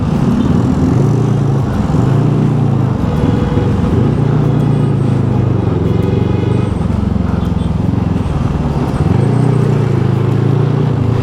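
A motorcycle on its first ride along an open road, engine droning steadily up close with rising and falling revs as it shifts, wind and road noise underneath.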